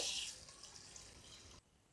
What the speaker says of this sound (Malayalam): ആദ്യം വെള്ളം ഒഴിച്ചു കൊടുത്തിട്ട് കഴുകിയെടുക്കാം